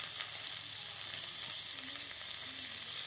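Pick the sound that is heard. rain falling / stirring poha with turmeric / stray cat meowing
stirring poha with turmeric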